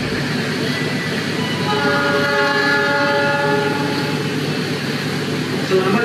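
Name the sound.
KA Purwojaya executive passenger train departing Cilacap station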